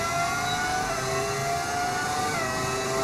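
A V10 engine sound mod in the F1 25 racing game, a steady high-pitched engine whine held at sustained revs, loud and continuous with no talk over it.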